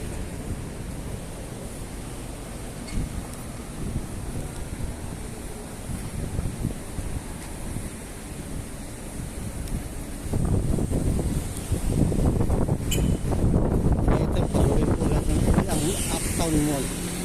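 Steady wind buffets the microphone in a low, rumbling roar that grows stronger and gustier toward the end, with people talking faintly underneath, outdoors at Uptown Mall parking in BGC.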